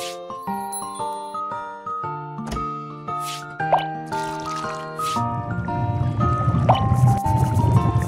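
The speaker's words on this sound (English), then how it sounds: "Pour in 400... Not enough milk." Cartoon pouring of milk in a cooking game set in a French restaurant kitchen, heard as bubbly, plopping splashes under cheerful tinkling game music. Splashes build toward the end.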